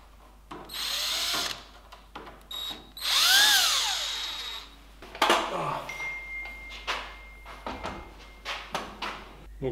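Power drill driving screws into an old front door being modified for a three-point lock, with several bursts of whining, revving drilling, close and loud, separated by clicks, knocks and handling noise.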